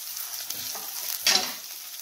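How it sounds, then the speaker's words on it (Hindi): Grated ginger and masala fry in a pan with a soft, steady sizzle, broken by a louder burst of crackling as the mixture is stirred, close and without any talking. "ग्रेटेड अदरक डालते हैं, और इसे भी अच्छे से भून लेते हैं।"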